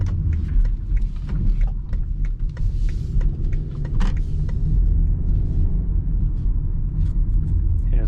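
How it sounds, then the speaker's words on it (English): A 2019 BMW X3 xDrive30i in comfort mode turning into a plaza toward speed bumps, a steady low engine and road rumble heard from inside the cabin with faint clicks and rattles. "let's go ahead and turn into our plaza, go over some speed bumps."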